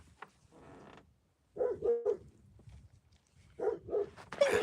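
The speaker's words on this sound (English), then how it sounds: "She's barking at cows." A dog barks at cows outdoors, giving a few short, fairly close barks and whimpering yelps in separate bursts with pauses between, no talk over them.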